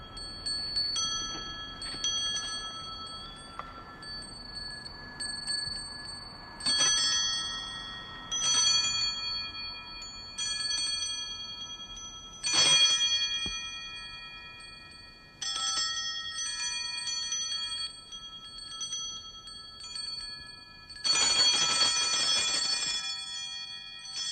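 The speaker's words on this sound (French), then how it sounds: "Je vais vous faire entendre le son de la cloche." A bell rings repeatedly in sharp bursts, its bright metallic tones sustaining and overlapping, with a louder, fuller cluster of strikes near the end.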